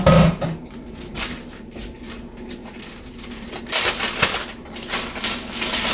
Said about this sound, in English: So let's get started and let's chop this up.